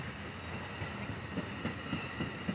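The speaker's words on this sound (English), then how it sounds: "This train's for transferring people." Passenger train rolling along tracks nearby, a continuous rumbling roar with faint rhythmic clicks of wheels on rails, heard alone.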